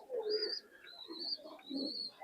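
A pair of Pakistani flying pigeons cooing close and quiet, three rolling throaty phrases in a row with no talk.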